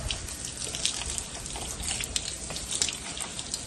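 A garden hose sprays steadily outdoors, rinsing Reviver Gel off timber, with a continuous broadband hiss and splatter that stays fairly constant for the whole stretch, no voices present.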